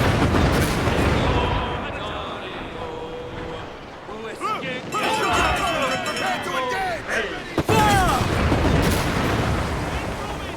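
Broadside cannon fire from a pirate ship in Assassin's Creed Black Flag, dense booming volleys crackling one over another, with a sharp burst near the end, while crew voices shout over the battle.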